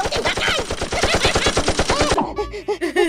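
Rapid machine gun fire in a steady burst of closely spaced loud shots for about two seconds, then cutting off into a brief echoing tail.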